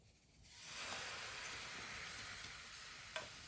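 Potassium carbonate being stirred into a solution with a thermometer, a steady soft hissing swirl that holds evenly throughout with one brief sharp tap near the end, close and quiet.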